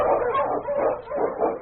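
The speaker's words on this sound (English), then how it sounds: "The Wonder Dog King, swiftest and strongest of Eskimo lead dogs, blazes the trail through storm and snow for Sergeant Preston" A husky sled dog, an Eskimo lead dog, barks and yips in several quick, loud bursts close by, with no talking.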